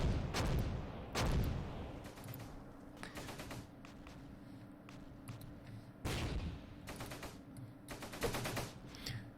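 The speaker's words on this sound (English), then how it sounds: "you'll be able to lay down pretty heavy barrages like this" Mortar and artillery barrage in the WWII tactical game Close Combat: a rapid series of booming, crackling impacts, some close and heavy, others lighter, over a steady low rumble.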